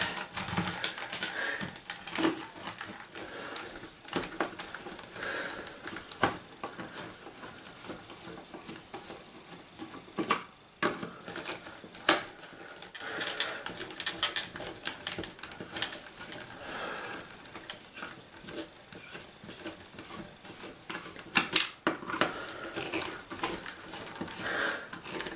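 A screwdriver backs screws out of the plastic case of an MTS400 multifunction thermostat timer, making a steady close patter of small scraping clicks with occasional sharper ticks.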